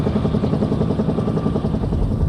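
A Bell UH-1 Huey helicopter with a Lycoming T-53 turbine engine, its rotor thumping in a fast steady beat over a loud continuous engine drone, close and unbroken throughout.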